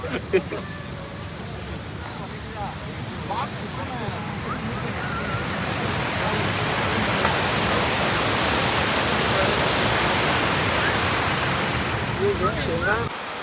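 Steady, loud rush of stream water during a monsoon trek near Bandage Falls, a broad continuous roar that swells slightly midway, with faint voices briefly audible in the first seconds.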